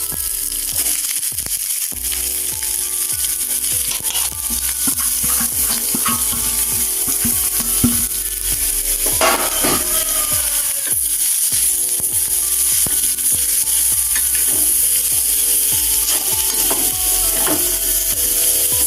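Carrots and onions sizzle steadily in a hot pan while being stirred, with repeated scraping and clicking strokes of a spoon over a constant frying hiss, close and loud, no talk.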